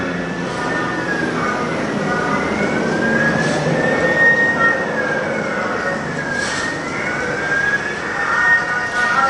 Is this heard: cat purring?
no